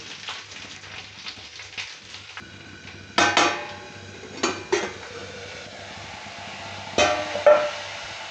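A lid set on a pot of mango simmering with a little water and salt lands with a few sharp metallic clanks at separate moments over a soft, steady kitchen background.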